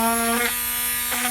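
A Harbor Freight Drill Master rotary tool, weak and lacking power, spins with a steady high electric whine and buzzing hum that briefly dips twice, heard up close with no talk.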